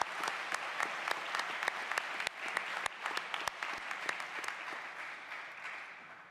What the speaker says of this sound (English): I'd like to have a round of applause for families and friends near and far who are supporting our students throughout their time at Muskingum